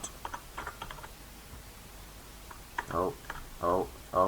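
Code typed on a computer keyboard while scripting in Unity: light, quick key clicks in short bursts, close by, followed by a person talking over the last part.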